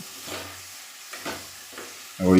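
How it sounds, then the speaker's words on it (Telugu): Bottle gourd and tomato pieces stirred in hot oil in a pan for a Telugu-style curry, giving a soft scraping and faint sizzle in a few separate strokes, ending in a louder clatter. "ఈ విధంగా మంచిగా కలుపుకోవాలి అంత ఆయిల్ మొత్తం ముక్కలకు పట్టుకునేటట్టు చూసుకోవాలి"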